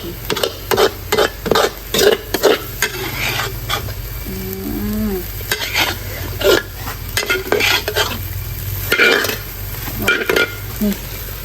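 Pork and foraged mushrooms are stir-fried in a pan, with a spatula scraping and clanking in a steady rhythm over a constant low sizzle, close up.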